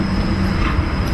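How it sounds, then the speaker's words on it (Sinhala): An electric tram on the Gold Coast light rail in Queensland rolls through the town centre, a steady close rumble of wheels on track with no voices. "මෙන්න ඔය ඉස්සරහින් යනවා වගේ ට්‍රෑම් ලයින් එකක්."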